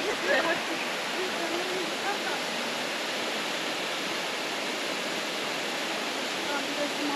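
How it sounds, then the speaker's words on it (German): Steady rushing roar of a large waterfall near Ordu, Turkey, broad and constant, with faint voices briefly audible at the start. "Da ist der Wasserfall jetzt."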